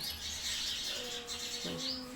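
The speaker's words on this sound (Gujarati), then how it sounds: "તારમાં ચકલીઓ બોલે જો" House sparrows on a wire chirp and tweet in short bursts, a few clear calls rising over a steady background hiss, fairly close by.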